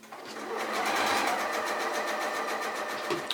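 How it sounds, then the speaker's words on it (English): Sewing machine stitching a line along a garment during an alteration, a fast steady whirring motor with rapid needle chatter that rises, holds for about three seconds and then stops with a small click, close and alone. "I'm gonna sew once and then twice and then trim."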